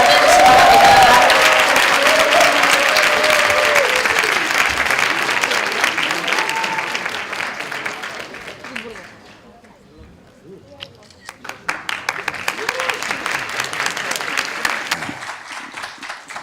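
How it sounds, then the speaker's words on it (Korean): An audience at a university student leadership lecture in Busan claps loudly to welcome party leader Hong Joon-pyo. The dense applause fades to near silence midway, then a second burst of clapping rises and carries on, with talk over the start. "모두 큰 박수로 홍준표 자유한국당 대표님을 맞이해주시기 바랍니다."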